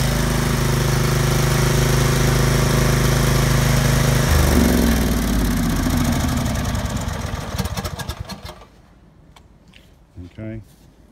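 A Vanguard petrol generator with two-wire automatic start runs loud and steady with a heavy droning rumble for about eight seconds, then shuts down and goes quiet, leaving a few faint knocks.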